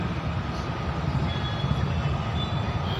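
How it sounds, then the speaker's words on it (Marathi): A metro train passes nearby as a steady, even rumble with a faint high whine riding on top, constant for the whole stretch. "दिसलं का? मेट्रो आहे, मेट्रो."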